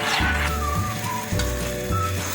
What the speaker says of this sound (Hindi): जब तक ये सही तो खोए की तरह लिक्विड थिक नहीं हो जाता, उस वक्त तक हमने चम्मच को हिलाते रहना